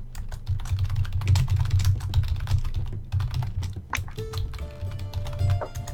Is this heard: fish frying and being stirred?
no